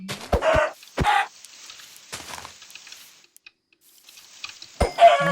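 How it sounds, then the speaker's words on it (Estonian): Minecraft chickens clucking in short, bright bursts separated by pauses, with sharp clicks and thumps from the game mixed in, then more clucks near the end. "Ma üldse ei saa pihta kanadele siin."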